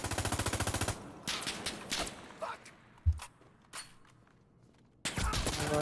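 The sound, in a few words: gunfire in the video game Insurgency Sandstorm (ISMC mod)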